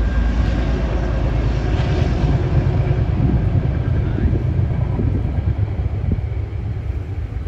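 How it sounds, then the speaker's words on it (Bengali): A train passes near Little Stony Point on a hiking trail in New York, producing a loud, continuous rumble that holds steady and then eases slightly toward the end. "ট্রেন যায়"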